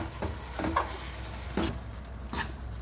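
Spices (garam masala, Kashmiri chilli powder and turmeric) go into a hot, sizzling pan for chana masala, with a steady frying hiss and a few brief stirring scrapes, no talking.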